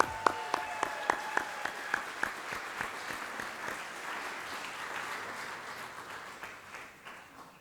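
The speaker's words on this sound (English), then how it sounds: "Let's give another round of applause." Audience applause at an applied art and design award ceremony, beginning with a few distinct sharp claps that swell into a steady, moderately distant wash of many hands, fading slightly toward the end.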